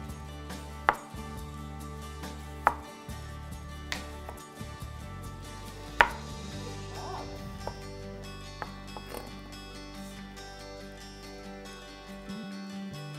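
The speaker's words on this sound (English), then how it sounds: "you can just cut some chunks the same size" A knife chopping raw chicken into even chunks on a cutting board, with sharp, separate thwacks spaced irregularly over a steady low background hum, fairly close.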